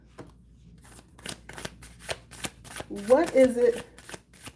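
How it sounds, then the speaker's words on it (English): Tarot cards are shuffled in a quick series of crisp riffles and soft slaps, close up, while a voice briefly speaks over them partway through. "Let me do a quick shuffle."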